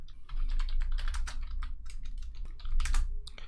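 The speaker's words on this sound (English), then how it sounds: "So if you type vagrant-v," A command typed on a computer keyboard at a command prompt: a quick, steady run of close, crisp key clicks with no speech.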